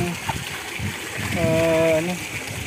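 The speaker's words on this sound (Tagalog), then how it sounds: "Pare, talsik na yung tubig dito. Open pipe na. Meron na pong fountain dito." Water sprays and gushes in a steady rushing wash from a broken water-district gate valve left as an open pipe, spouting like a fountain amid typhoon flooding near Iriga, with someone talking over it close by.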